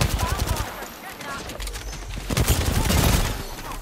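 Rapid bursts of video game gunfire during a ranked match, loud and dense, with excited players talking over the shots throughout.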